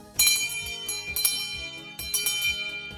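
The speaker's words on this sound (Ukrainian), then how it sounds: "ось він, веселий шкільний дзвоник" A school bell rings in repeated bright, clanging strokes with a lingering metallic ring, loud and close, with no voices, marking the start of the school year.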